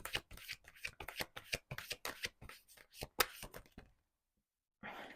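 Tarot cards shuffled and drawn for a reading, a rapid run of crisp riffling slaps and flicks close by for about four seconds, then a brief pause before another burst of card handling.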